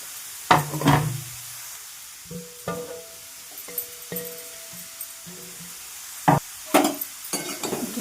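Grated carrots for carrot halwa are stirred and fried in a pan, giving a faint sizzle under scattered knocks and scrapes of a spoon against the vessel, with a few louder clatters.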